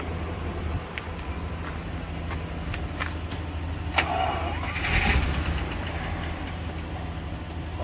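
A restored 1949 Packard car engine cranks and catches, then settles into a steady, low idle, heard close by with a brief surge in the middle.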